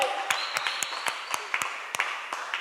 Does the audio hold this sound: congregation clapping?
yes